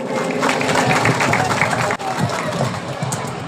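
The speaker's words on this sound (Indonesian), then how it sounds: "Sekali lagi beri tepuk tangan yang meriah Bapak dan Ibu." An audience at a welcome event for the Bekasi regent gives loud, continuous clapping with crowd noise and cheering, a dense wash of sound filling the whole stretch, with a brief dip midway.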